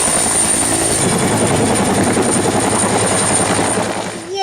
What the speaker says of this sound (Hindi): तुम कैसे उड़ते हो हेलीकॉप्टर